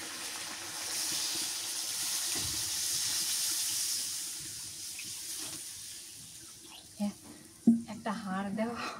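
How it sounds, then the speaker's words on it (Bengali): Water poured into a cooking pot of browned pointed gourd and beef being cooked for khichuri, a steady rushing hiss over several seconds that eases off, followed by brief clatter and a few words of speech. "এবার পানি দিয়ে দিই।"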